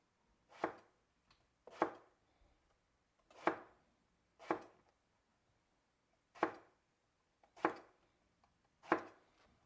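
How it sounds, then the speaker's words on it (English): Eggplant being chopped on a board for a stir-fry, seven crisp knife strikes spaced a second or so apart, close and clean in a quiet kitchen. "Chopping eggplant is very fun."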